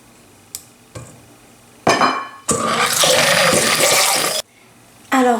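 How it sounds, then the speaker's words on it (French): An electric mixer beats pear and almond cake batter with yogurt and oil, running loud and steady for about two seconds, with bowl clatter before it and a short restart at the end. "Et je vais mixer tout ça jusqu'à obtention d'un mélange mousseux"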